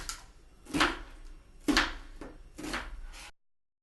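A kitchen knife chops an onion into half-inch pieces on a cutting board, three close, distinct cuts spaced about a second apart before the sound stops.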